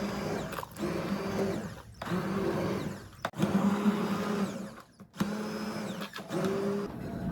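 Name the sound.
blender blending blueberry applesauce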